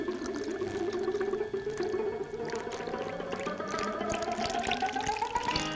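Water poured steadily and continuously, with a rising pitch as the vessel fills, a close and fairly loud stream with no talk.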